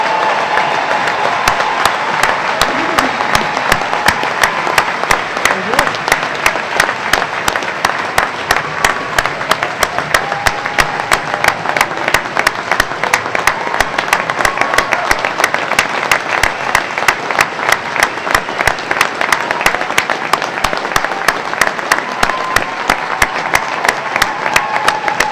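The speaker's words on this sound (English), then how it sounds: "Please join me in giving all our graduates a well-deserved round of applause." A large audience at a naval postgraduate graduation ceremony gives graduates prolonged, even applause, a dense wash of clapping with rhythmic hand claps standing out, steady and loud for the full stretch without speech.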